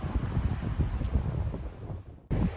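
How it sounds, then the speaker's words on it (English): Wind blows outdoors in Shoshone, California, a steady loud rushing roar buffeting the microphone with gusty surges, briefly dropping away near the end before returning. "the wind's blowing"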